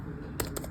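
Quick computer-keyboard typing: after a quiet hum, a short cluster of three or four crisp, close keystrokes clicks out in fast succession, with no talking over it.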